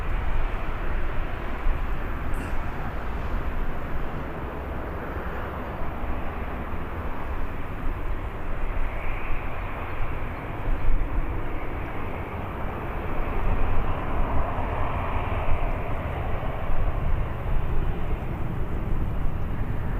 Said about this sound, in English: Do you have an Aer Lingus ATR on the runway?